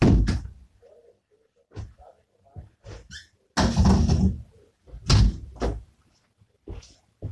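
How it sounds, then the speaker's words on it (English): An interior door, shut again after the wind keeps blowing it open, closes with a few loud thumps and knocks in a quiet room. "I'm gonna shut my door again because it keeps on blowing open."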